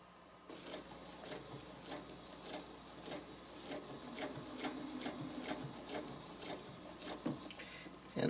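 A sewing machine stitches a spider web design in steady, rapid bursts of needle clicks with brief pauses between runs, close and fairly quiet, with no talking.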